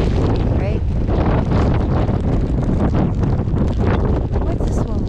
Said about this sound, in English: Oh my gosh, this wind is so wicked.